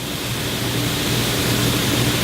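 Marinade drips into a fire pit during Korean barbecue beef rib grilling, giving a steady, close hiss and crackle of sizzling that runs continuously without a break.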